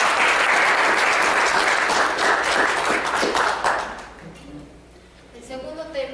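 An audience at a colloquium breaks into dense, loud applause that carries on for about four seconds, then fades out as a voice begins speaking.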